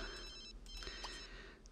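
A telephone rings in The Sims 3, a bright electronic trill that sounds steadily and fairly loudly under game background sound, with no one talking.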